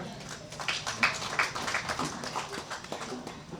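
Audience clapping for themselves at an office inauguration event in Kumba, a soft, steady patter of hands lasting a few seconds at moderate distance, with faint murmuring in the room.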